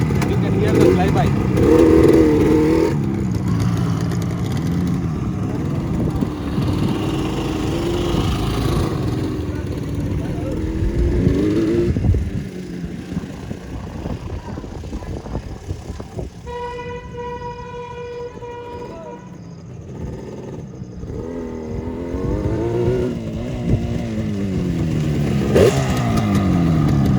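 A Yamaha RD350 HT twin-cylinder two-stroke motorcycle rides around and passes by, its engine rising and falling in pitch as it revs and recedes, mixed with people talking and a brief horn-like tone partway through.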